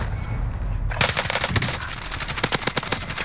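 Rapid automatic gunfire in a first-person shooter video game, a loud burst of close shots in quick succession that starts abruptly and keeps cracking in an uneven rhythm.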